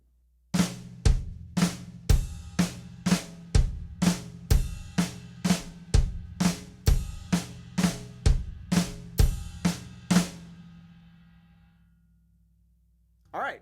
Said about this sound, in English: But now let's just add our flam and kick drum right before that so we get our 5-note phrase.